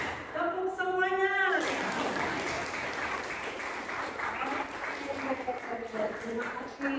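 A chemistry class claps together all at once in a classroom, a dense burst of many hands that swells and then continues as a steady patter, with a teacher's voice heard briefly before and voices rising near the end.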